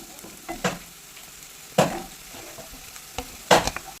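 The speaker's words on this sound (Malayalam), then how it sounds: "ഇനി ഇതിലേക്ക് ഞാൻ ഇട്ട് കൊടുക്കണം പാവയ്ക്കയും കൂടെ നന്നായിട്ടൊന്ന് വഴറ്റിയെടുക്കണം." Bitter gourd and onions sauté in a pan with a soft, low sizzle, broken by three distinct scraping stirs of a spatula against the pan at close range.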